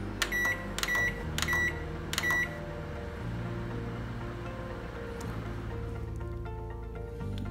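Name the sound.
microwave oven heating cake batter in a mug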